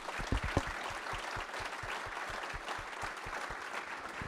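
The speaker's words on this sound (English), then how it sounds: "Let's give him a round of applause, please." An audience at an evening Q&A event in Rapid City, South Dakota, claps steadily throughout, a full round of applause with some close, rhythmic individual claps standing out.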